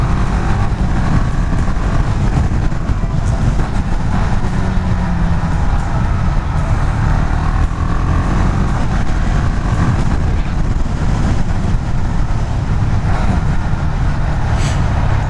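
A KTM Duke 690 motorcycle engine pulls at high rpm, a loud, steady, rough roar with wind rush that runs for the whole stretch with no talk.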